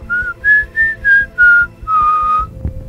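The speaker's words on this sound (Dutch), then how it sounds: "Ja, dat fluitje was er natuurlijk ook nog." A series of six shrill whistle tones, each held briefly with short gaps, the last one longer, over a low background rumble.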